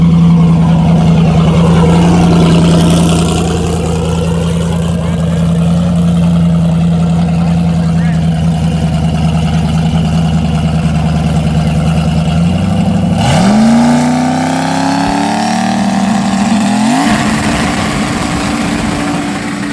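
A Banshee engine idles with a steady buzzing drone, then blips and revs higher twice in the last several seconds. It sounds close and loud at a street-style hood track.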